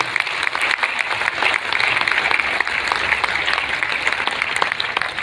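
Audience applause at a right concept marketing calibration program, a steady, loud wash of many hands clapping that holds evenly throughout with little variation.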